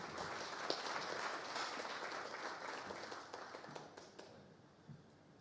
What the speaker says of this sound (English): ladies and gentlemen, please give a warm round of applause